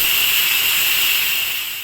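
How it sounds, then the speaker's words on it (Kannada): A pressure cooker on the stove, holding water and vegetables for brinjal curry, lets out a loud, steady high-pitched whistle of escaping steam that fades slightly at the end. "2 ಕೂಗಾಗೋವರೆಗೂ ನಾವು ಕಾಯಬೇಕು"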